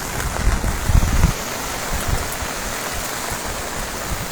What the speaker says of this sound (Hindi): काफ़ी ज़्यादा इस समय बारिश जो है वो हो रही है।